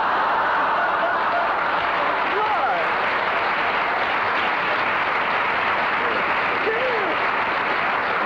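Recorded applause played back from a vinyl record, a dense, steady roar of clapping with a slightly muffled, hissy quality, continuous throughout and overlapping faint voices.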